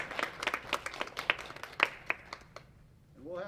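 A small elementary school awards audience claps sparsely at a winter sports awards ceremony, scattered distinct hand claps that thin out and fade, followed by a brief voice at the end.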